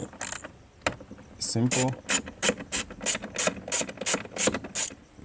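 A 10mm socket ratchet loosens hex bolts on the expansion valve of a Mercedes W166 ML350, giving a steady run of close, evenly spaced clicking bursts after a brief spoken word.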